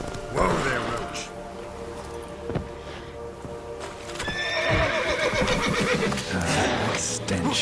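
Roach, a horse in The Witcher 3, whinnies loudly up close, with hoofbeats and rustling around it and a voice speaking over it.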